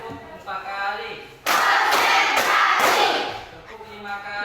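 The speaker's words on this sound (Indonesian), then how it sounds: "Tepuk 4 kali." A classroom of students claps in unison in a short burst of rapid, sharp hits, loud and close, with a voice calling out before it.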